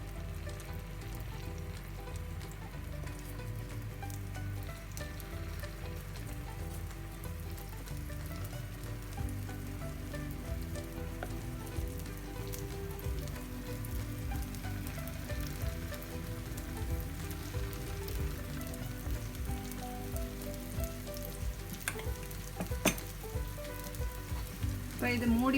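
Kuzhi paniyaram batter frying in a pan for kara paniyaram, a steady, even sizzle that continues unbroken throughout at a moderate level, with no talk over it.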